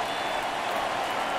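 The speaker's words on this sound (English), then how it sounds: "you can feel this crowd waking up a bit here" Video game baseball crowd during an MLB The Show playoff game between Cleveland and New York, a steady broad wash of applause and crowd noise filling the whole moment without a break.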